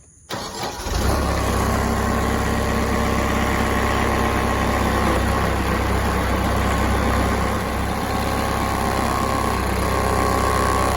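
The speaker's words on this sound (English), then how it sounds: "Let me get this tractor cranked up." A tractor engine cranks briefly and catches, then settles into a loud, steady idle with a constant low rumble and vibration that carries on to the end.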